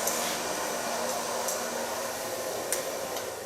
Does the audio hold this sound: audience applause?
no